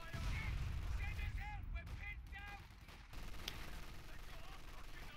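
Mortar fire in a World War II battle game set around Bayeux during the fight for Caen: distant thumps and booms under a rumbling battlefield din, with a voice talking over it.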